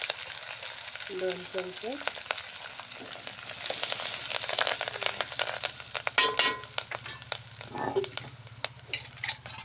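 Curry leaves and red chili powder crackle and fry in hot oil with browned garlic for a spice tempering. A soft, continuous sizzle runs throughout, with stirring scrapes and a brief spoken phrase.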